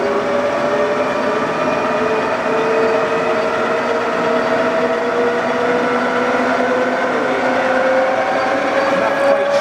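A Lion 20x40 gap bed lathe runs at high speed, giving a steady, loud whine with sustained tonal lines that hold evenly throughout, with no talking.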